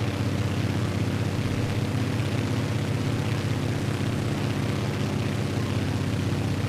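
The engines of a Grumman G-21A Goose flying over New York City in Microsoft Flight Simulator drone steadily and loudly, a constant propeller roar with no speech.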